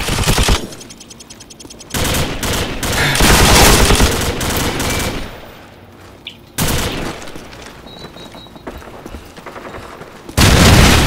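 An M60 machine gun in Call of Duty 4 fires long, loud sustained bursts close up, broken by short pauses, with a final burst starting near the end.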